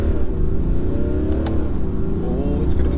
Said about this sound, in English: Will we hit 60 before the corner?